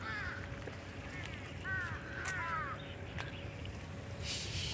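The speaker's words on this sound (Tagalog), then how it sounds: "Ayun na yung uwak oh." Several crows caw in short, hoarse bursts on a hiking trail on Lamma Island. The calls come in a loose series at moderate distance over steady outdoor background noise and faint talk.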